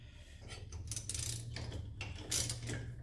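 A lock nut being threaded onto a bracket bolt during a 2-inch lift kit install on a Polaris RZR 570, heard as close, light mechanical ratcheting and clicking over a low steady hum.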